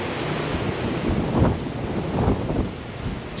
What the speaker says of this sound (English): Still is a little bit windy